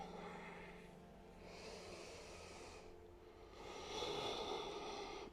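Slow, deep breaths during a seated yoga stretch, two or three long airy inhales and exhales rising and falling, soft and close with no speech.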